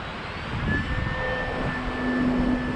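A Cessna 150 model airplane's engine drones steadily on a close flying pass, its pitch rising and falling slightly in a continuous hum with no talking.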